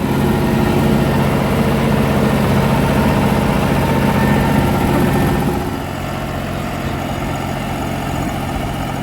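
A New Holland 5620 CRDI tractor runs with a rotavator attached. The engine gives a loud, steady low drone that eases to a quieter idle about halfway through, with no talk.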